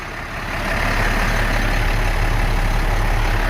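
Engine of a 2007 International 4400 grapple truck starting up and settling into a loud, steady low rumble, close by with no talk.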